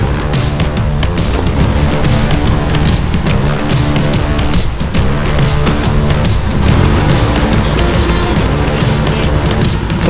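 A Unimog truck crawls an off-road obstacle course at an overland rally, its engine a dense, loud, continuous roar with clanking and rattling throughout, no talk audible.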